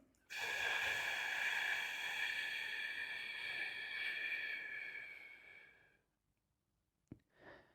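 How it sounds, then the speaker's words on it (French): A deliberate deep breath drawn through the nose and pushed out fully for hypoxic breath-hold training, heard as one long, loud, steady rush of air lasting several seconds, then silence and a short faint breath. "Tu vas venir du coup prendre une grande inspiration au début, donc avec le nez, expirer au maximum"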